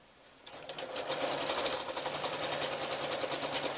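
A sewing machine stitching the lining of an iPad case, starting up after a quiet moment into a fast, even, rattling whir of needle strokes, close and steady to the end.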